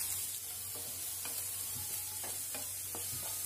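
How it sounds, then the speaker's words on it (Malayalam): Chopped onions tossed into a hot pan with green chillies for Kerala pulissery, giving a steady low sizzle with a few soft stirring scrapes spread through the clip; no voices. "ഇനി നമ്മൾ അരിഞ്ഞു വെച്ചിട്ടുള്ള സവാള ചേർത്ത് കൊടുക്കാം."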